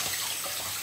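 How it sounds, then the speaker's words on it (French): Water runs steadily from a kitchen tap as hands are washed, a continuous soft hiss with no voices. "Je vais me laver les mains."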